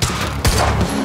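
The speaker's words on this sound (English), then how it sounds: "Stop fucking shooting at us!" Burst of gunfire in the Quantum Break video game, loud and dense, a sharp crack of shots at mid-clip over a rumbling battle backdrop.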